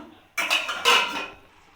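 A metal lid set onto a cooking pot of cauliflower and potatoes, two quick clattering knocks followed by a short ringing rattle that fades, close and alone.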